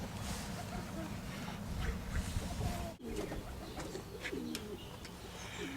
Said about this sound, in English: You can tell here the difference between a homing pigeon and a roller pigeon